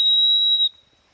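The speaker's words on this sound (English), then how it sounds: "give her a hunt whistle" A hunt whistle gives one long, steady, shrill blast for about two-thirds of a second during duck dog training, close and loud, then cuts off abruptly into quiet.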